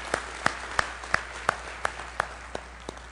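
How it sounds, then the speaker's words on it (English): A congregation at a Sunday morning church service claps in a slow, even rhythm, about ten distinct claps spaced roughly a third of a second apart, clear and moderately close. "Let's give all these a round of applause."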